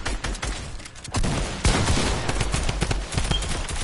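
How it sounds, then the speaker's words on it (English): A drum gun firing in Fortnite, rapid continuous bursts of automatic gunfire, loud and dense, with a brief pause before the spray picks up again. "Yo, he's spamming. Because he has a drum gun."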